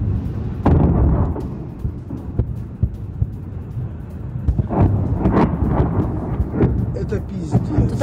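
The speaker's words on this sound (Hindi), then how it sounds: "यूक्रेन ने पूरी रात यहाँ शेलिंग की है। यूक्रेनी हमले का वीडियो भी आपके सामने है।" Artillery shelling over Belgorod during the Russia–Ukraine war: repeated heavy booms and sharp cracks, some close and loud, others distant, scattered irregularly over a continuous rumbling background.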